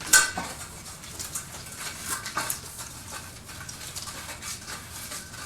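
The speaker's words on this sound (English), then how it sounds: "go ahead and polish up your burner pans" Burner pans on a stove in a VR housekeeping game get polished with steady, light scrubbing and faint metallic rattles and clinks throughout, close and fairly quiet, with no talking.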